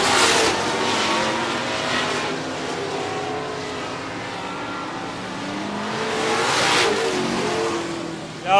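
Limited modified race cars roar around the 105 Speedway oval, engines swelling loud as they pass close, fading, then surging again with another group going by.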